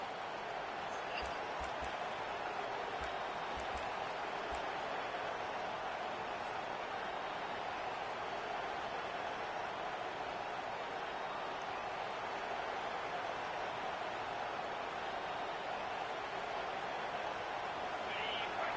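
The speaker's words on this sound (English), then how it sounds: "decibels rising as the crowd gets behind this defense on third down." A stadium crowd roars on third down at a college football video game, Mississippi State at California. The dense, steady roar holds loud and unbroken throughout.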